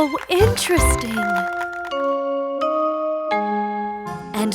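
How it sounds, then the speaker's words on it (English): A bright chime rings in a children's cartoon theater, a series of sustained bell tones struck one after another, each ringing on clearly after a brief sung or spoken bit at the start. "And there is the bell."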